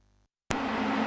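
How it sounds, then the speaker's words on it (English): A cooling fan runs in a home workshop during motorcycle welding work, its steady, even broadband whoosh cutting in abruptly after a faint hum and a short silence, then holding constant and fairly close. "The noise you can hear is my cooling fan running in the background"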